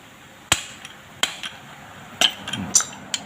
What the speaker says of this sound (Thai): เอาลูกบล็อกนะครับ ตอกนะครับ